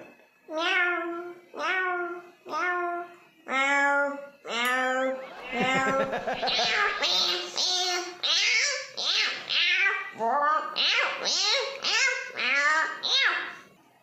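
A child vocally imitates cats meowing and fighting, a rapid run of loud yowls and wails that starts as separate cries and builds into a dense, continuous squabble.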